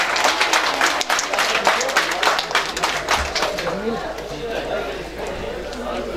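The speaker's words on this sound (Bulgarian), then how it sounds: "Аплодисменти!" Wedding guests applaud at a civil marriage ceremony, a dense burst of hand clapping with some voices mixed in, steady and fairly loud throughout.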